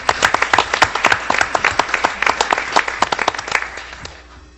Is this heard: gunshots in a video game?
no